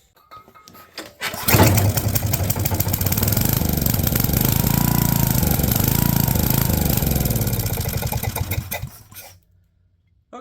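A junkyard machine fitted with an aftermarket carburetor cranks and catches, running loud and rough close by for several seconds before sputtering out and falling silent.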